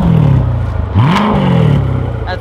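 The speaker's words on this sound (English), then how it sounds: "Rev it." Corvette engine revved on a UK street, a loud, close rumble that climbs in pitch, drops back, and surges again in a second rev before settling, with no talk.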